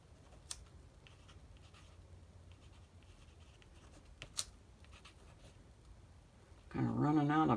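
A pen scratches a signature onto a paper card, faint close scribbling strokes with a couple of sharper taps, followed by a person speaking at the end.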